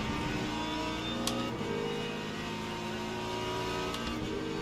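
A BMW GT3 race car engine in the sim racing game Le Mans Ultimate at Sebring drones steadily throughout, a sustained mid-pitched hum with slight pitch shifts as it slows and picks up again, with no talk.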